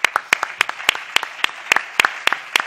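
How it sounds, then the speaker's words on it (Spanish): Applause from a conference audience at a national congress on entrepreneurship, employment and disability, heard as sparse, distinct hand claps in an uneven rhythm, moderately close and without talk. "les aplaudo yo a ustedes"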